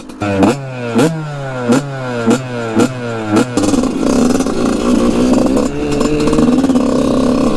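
A cheap second-hand dirt bike engine is close and loud: six sharp revs rise and fall in a steady rhythm, then it settles into a continuous rough running drone with mechanical clatter.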